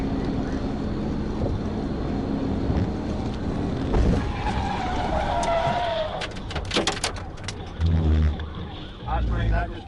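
A police cruiser performs a PIT maneuver on a 2016 Toyota pickup on a highway, with a loud rushing engine and road roar, then a squealing tire skid and thumps as the truck spins out, under radio chatter.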